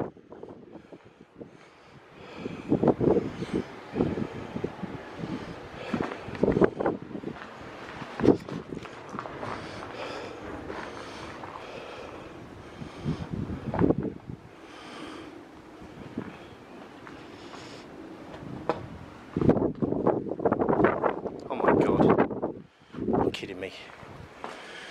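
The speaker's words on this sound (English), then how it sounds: "it's windy as hell" Strong wind buffets the microphone at a coastal fort, loud gusty rumbles rising and falling in bursts across the whole stretch, with quieter lulls between blasts.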